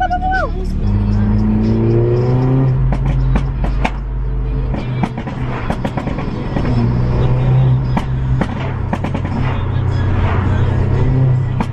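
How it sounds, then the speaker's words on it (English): Modified cars drive and rev along a street at the Isle of Wight Takeover 2021 event, engines rising and falling close by with sharp exhaust pops and bangs crackling throughout, a continuous loud roar. "There's like loads of modified cars driving around and I love it."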